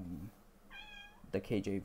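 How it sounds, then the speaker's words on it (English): A house cat meows in a short harmonic call, close by and clear, with a person talking just before and right after it. "and that was my cat"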